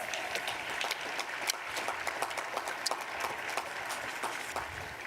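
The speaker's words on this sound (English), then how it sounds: "please applaud" An audience at a law school commencement in Richmond applauds for faculty and staff, a dense, continuous burst of clapping with individual sharp claps standing out throughout.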